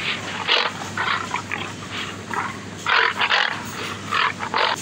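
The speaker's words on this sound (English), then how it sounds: "Now bear." A recorded bear growls in a series of rough, breathy grunting bursts, uneven in rhythm and moderately loud, continuing throughout with no voices present.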